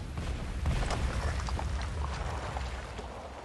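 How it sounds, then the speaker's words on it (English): A flaming pile of barrels explodes in Trials Evolution, a loud, rumbling blast that swells early and then rolls on with crackling debris and a slowly fading low roar. "you land in your big flaming pile of barrels and just hang out waiting for the explosion"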